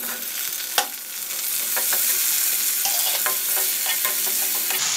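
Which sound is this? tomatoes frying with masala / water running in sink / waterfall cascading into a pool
tomatoes frying with masala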